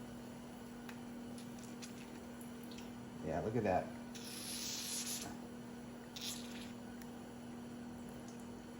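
Brief aerosol hiss of WD-40 sprayed onto the starter of a 1968 McCulloch Fishing Scott 7.5 hp outboard motor, with a second short spray burst following; someone speaks briefly.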